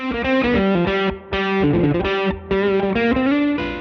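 Electric guitar through a Nobels ODR Mini overdrive pedal playing a chord-based riff, warm and gritty distortion with sustained notes and brief pauses between phrases.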